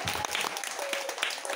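Short burst of applause from an audience at a Balinese gathering, a steady dense patter of clapping hands filling the whole moment with faint voices mixed in underneath.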